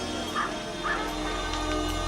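Dogs yip and bark in short bursts, two distinct yelps near the start, over a low steady background hum.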